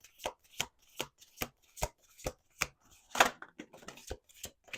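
A deck of cards being shuffled, producing a steady series of crisp riffling bursts roughly every half second, close and alone without speech.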